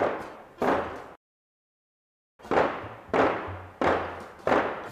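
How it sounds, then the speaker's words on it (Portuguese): Simulated marching of about 20 soldiers from a mechanical cinema sound-effect device: loud, heavy crunching thuds in a steady stomping rhythm, two beats, a full pause of silence, then four more. "Aqui seria soldados marchando, 20 soldados marchando, o som era mais ou menos isso."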